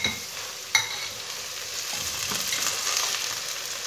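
Potatoes frying in a pan with a small amount of oil give a steady, close sizzle throughout, with a sharp clink near the start and no voices.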